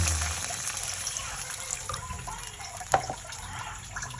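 A glass of water pouring and splashing into a pan of cooking milkfish, steady and close, with a brief clink partway through.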